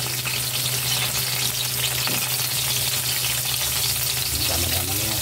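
Onions frying in oil in a pan, a steady close sizzle with crackling that holds throughout, alone and without talk.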